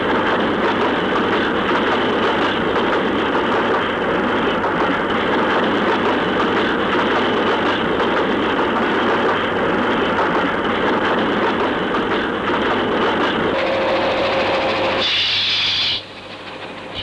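A train runs on in a loud, continuous rumble with a broad steady hiss and a low droning hum. Near the end a brief tone rises and the noise then drops off.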